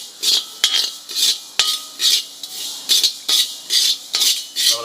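Fifty grams of mustard seeds dry-roasting in a pan for a Tamil kuzhambu chilli powder, stirred with a utensil, giving close, steady, rhythmic rattling scrapes that repeat about twice a second.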